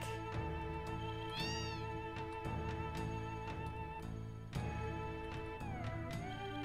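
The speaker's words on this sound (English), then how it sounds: "It's a shack of cats!" Repeated cat meows from a shack full of cats in Final Fantasy VII, several rising and falling calls layered over steady game music, fairly close and clear.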